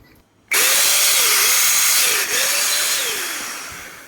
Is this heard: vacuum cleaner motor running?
yes